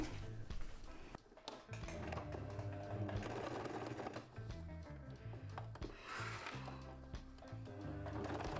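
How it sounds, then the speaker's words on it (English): A sewing machine runs top stitching around a fabric cushion for stands, buzzing close and loud in bursts with brief pauses and changes in speed, and no voices. "I'm going to make a top stitching all around this area"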